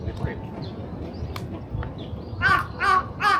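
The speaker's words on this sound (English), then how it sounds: "Raven." A raven caws three times in quick succession outdoors in Japan, loud harsh calls near the end after a stretch of faint ambient noise and light footsteps.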